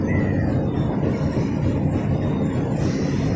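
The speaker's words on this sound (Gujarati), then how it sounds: "સાબરમતી ટ્રેન સામેથી આવતી જણાય છે" The Sabarmati passenger train approaching on the line toward Sasan Gir, a steady loud low rumble of wheels and engine with a brief high squeal near the end, no talk.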